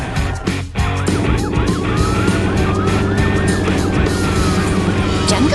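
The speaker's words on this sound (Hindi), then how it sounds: "सायरन की गूंज और पहियों की रफ्तार के साथ पुलिस की बस और एम्बुलेंस मिलकर किसी भी चुनौती का सामना करने को तत्पर है।" Cartoon police bus and ambulance sirens wail together with rising and falling tones over a loud, steady engine and wheel rumble, continuous throughout.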